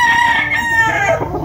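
A rooster among cocks and bullstags kept for sale crows close and loud in one drawn-out, wavering call, with faint clucking from other fowl around it.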